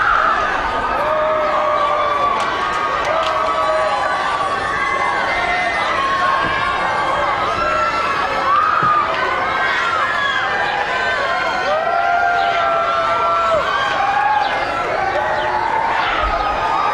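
A large crowd of Michael Jackson fans cheers and screams continuously, with many overlapping high shouts and shrieks swelling at a steady, loud level.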